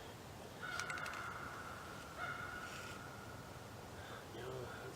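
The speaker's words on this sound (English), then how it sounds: "that's a bird" Out in the woods, a bird gives several separate calls, sharp and moderately close, over a steady outdoor background hiss.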